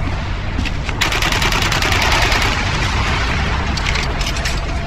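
A weapon firing in Warhammer 40K Eternal Crusade, with rapid bursts of loud shots over a busy, roaring battle soundscape, close and sustained.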